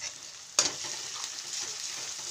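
Onion, garlic, cumin and coriander frying in a pan, one sharp clank at the start and then a steady, close hiss of sizzling as the mixture is stirred, with no voices.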